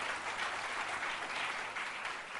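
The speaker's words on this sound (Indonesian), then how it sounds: "Yang setuju dengan saya berikan tepuk tangan" A congregation at a fasting prayer service gives a round of applause, a soft, even wash of many hands clapping heard from a distance without pauses or voices.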